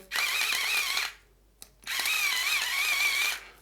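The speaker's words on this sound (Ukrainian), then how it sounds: "Так, подрібнювання в нас відбувається дуже впевнено." Cheap electric kitchen grinder ordered from AliExpress chopping food, a loud high-pitched motor whine in two steady bursts of about a second and a half each, separated by a brief pause with a small click, no talk.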